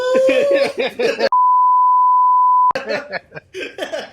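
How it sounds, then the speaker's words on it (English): A loud, steady electronic censor beep lasting over a second cuts into a stretch of conversation, with people talking just before and right after it. "We just beep it or something."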